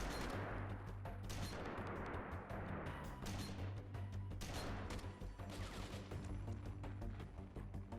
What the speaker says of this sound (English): Is there someone shooting me from behind, actually?